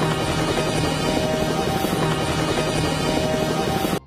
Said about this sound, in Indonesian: Sebuah helikopter melintas di lokasi Jack berada.